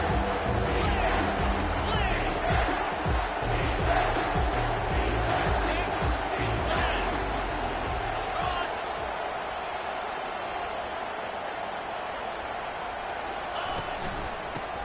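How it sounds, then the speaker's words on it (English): A football stadium crowd roars and cheers in a sustained, dense wash of noise as the defense tries to hold in the red zone during a playoff game, fading somewhat toward the end. "the crowd coming to life here, trying to help this defense down in the red zone"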